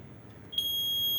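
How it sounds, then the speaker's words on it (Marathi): A high-level water tank alarm fitted to a drinking-water tank sounds after a short quiet hiss, switching on as one sharp, piercing, steady tone that holds until the end. "ज्या वेळेला पाण्याच्या टाकीच्या लेवल एका लेवलच्या आसपास येते तेव्हा तो अलार्म वाजतो"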